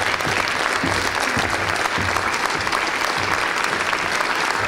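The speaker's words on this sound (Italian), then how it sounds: "ora fate bene ad applaudire." Audience at a ceremony for a Dante society gold medal presentation bursts into sustained applause, a thick, even roar of many hands clapping at close range with a few sharper individual claps standing out.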